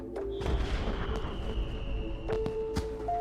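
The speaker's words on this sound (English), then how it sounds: "Commercial-grade fireworks contain larger amounts of explosives than consumer fireworks" Repeated booming explosions of commercial-grade fireworks, a few sharp bangs with rumbling echoes, heard from a moderate distance.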